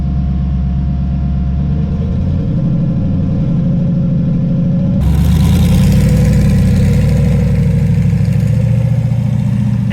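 Twin turbo Camaro engine out on the street for its first drive, a loud, close, steady rumble that idles and then swells as the car pulls away, with no talking.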